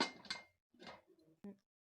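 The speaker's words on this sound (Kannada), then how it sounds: "ಕುಕ್ಕರ್ ಮುಚ್ಚಳ ಮುಚ್ಚುತ್ತಾ ಇದ್ದೀನಿ ನೋಡಿ" A pressure cooker lid is closed in a home kitchen while making fenugreek-leaf pulao, giving a few short metallic clinks and clatters, the last one a sharp close knock, with quiet gaps between.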